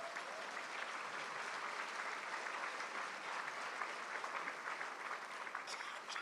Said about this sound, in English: let's give them a hand clap for their hard work.